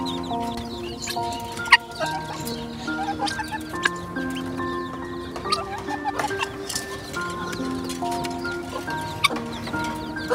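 Desi hens kept on a rooftop, large Tiger-breed birds among them, cluck and call repeatedly in overlapping bursts, with scattered scratching and patter beneath, fairly close and without talk.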